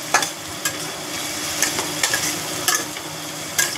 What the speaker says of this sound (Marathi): चांगला एकदम लाल होतवर कांदा एकदम फ्राय करून घ्यायचा पहिले